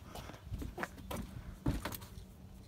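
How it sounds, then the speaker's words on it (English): Someone tries to open a locked door at an old meeting house outdoors, with a few knocks and rattles of the handle spread over a couple of seconds, fairly faint against background noise. "I'll have to try opening up this door."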